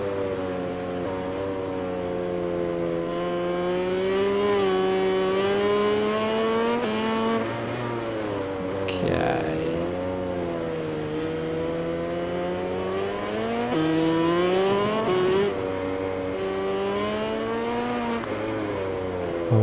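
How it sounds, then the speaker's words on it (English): Honda motorcycle engine in MotoGP 20, a steady high-pitched racing whine that rises and falls as it revs through gear changes, loud and continuous, with a brief rough blip midway. "But I can hear that Honda closing in"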